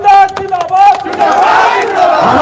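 A loud crowd cheers and shouts at a rally for Jairam Mahto in Jamshedpur, with a raised voice up front at first before blending into a dense roar of many people.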